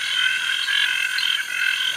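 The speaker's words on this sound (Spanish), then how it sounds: "Solo los machos de las ranas cantan, tanto para atraer a las hembras como para alejar y amenazar a otros machos." Male frogs croak in a dense, unbroken nighttime chorus at Mistico Park, many overlapping calls forming a steady, loud trilling wall of sound with no voices.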